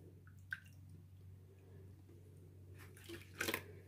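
Water poured into potato paste for homemade papad makes soft splashes and drips over a steady low hum, growing to a brief louder gush near the end, without talk.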